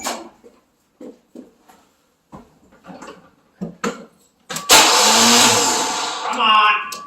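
A 1990 Chevrolet Silverado with a 4.3 V6 cranks briefly and then catches, roaring into a loud, close rev that holds and then rises again near the end, after a stretch of short scattered sounds and talk.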